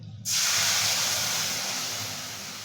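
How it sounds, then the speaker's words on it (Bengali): Ground coriander, red chilli powder and turmeric spice mix poured into hot panch phoron oil for rui fish curry bursts into a sudden loud sizzle that hisses steadily and slowly fades. "এবার এই পাঁচ ফোড়নের তেলে মা ওই মশলাটা ঢেলে দেবে"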